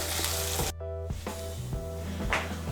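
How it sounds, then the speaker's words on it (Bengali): Paneer pieces sizzling steadily in hot oil, a continuous broadband crackle with a brief clunk of utensils partway through, close and fairly loud with no talking. "এই দেখুন পনিরের টুকরোগুলোকে ভেজে নিয়েছি"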